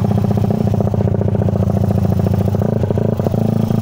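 A tuned racing Yamaha Mio scooter engine with custom jetting runs loud and close, a rapid pulsing buzz with rhythmic firing and mechanical clatter that holds steady and revs slightly.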